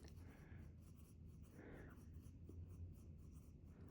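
Pencil lead lightly shading across paper, held at an angle, making a soft, steady, very quiet scratching rub that continues without pause and without talking.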